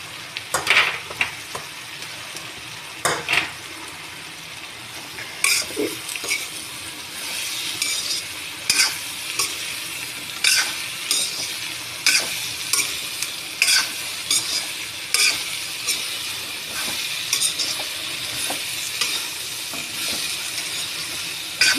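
Coarsely cut onions frying in a pan, a steady sizzle under regular scraping strokes of a spoon stirring them, with occasional light clinks, close and fairly loud with no voices.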